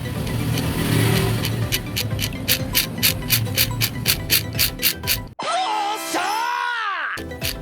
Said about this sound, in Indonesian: jika pun nanti suaranya agak kasar, mohon dimaklum karena ini sekali lagi gearnya buatan tangan